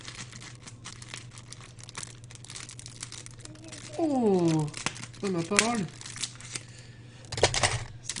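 Scissors cut open a tough plastic tissue packet, making crinkling and snipping sounds that come in bursts. Near the middle, a voice speaks briefly over the rustling.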